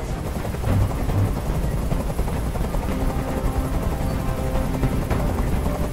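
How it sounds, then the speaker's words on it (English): Helicopter rotor noise in the video game Detroit: Become Human, a loud, steady low thumping drone that fills the whole scene without letup. "I can't stand that noise anymore. Tell that helicopter to get out of here."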